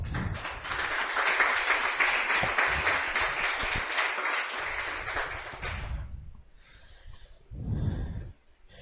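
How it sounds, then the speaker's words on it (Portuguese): Church congregation clapping and applauding in praise during a Portuguese-language sermon, a loud dense burst of many hands for about six seconds that cuts off abruptly, followed by a brief quieter murmur. "Aplauda o Senhor."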